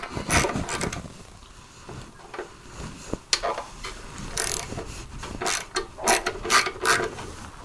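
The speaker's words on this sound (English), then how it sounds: "You probably going to need it on a wrench or a ratchet. But just go around, break all these free." A ratchet driving a T20 Torx bit clicks as it breaks loose the fuel pump screws on a Harley-Davidson Sportster 883 Iron, with several bursts of close, sharp ratcheting separated by brief pauses.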